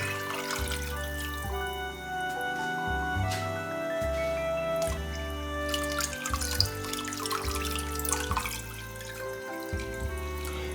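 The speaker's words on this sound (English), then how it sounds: "Turn the heat on under the beans and add 2 more quarts of water." Water runs into a pot of beans being made into minestrone, a steady trickling pour with small splashes and drips lasting several seconds, close up, with no talking.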